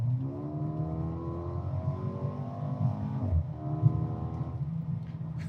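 A Mercedes performance car engine revs up through a gear, its rising whine climbing steadily before an upshift brings a sudden drop and a brief pop. The engine then pulls again, heard from inside the car at moderate loudness.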